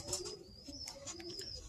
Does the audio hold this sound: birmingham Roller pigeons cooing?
yes